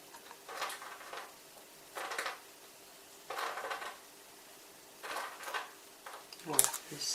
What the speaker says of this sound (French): le petit bruit que vous entendez, c'est mon petit oiseau qui est en train de jouer avec une biscotte